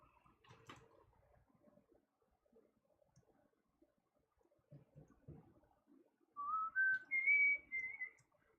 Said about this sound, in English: Is whistling irritating, like really irritating coming from this microphone?